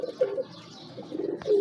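Several pigeons in a breeder's loft coo close by, with soft repeated low coos and a brief rustle, no talking.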